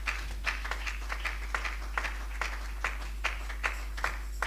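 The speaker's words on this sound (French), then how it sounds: "On acclame pour la parole du Seigneur." A church congregation applauds in steady rhythmic clapping, evenly spaced claps repeating at a moderate distance over a low constant hum.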